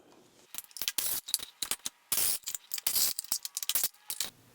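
An 8mm socket loosens the bolts on a sheet-metal cover of a 2024 Triumph Scrambler 400X motorcycle, heard up close as bursts of quick ratcheting clicks and metallic scrapes with short gaps between them.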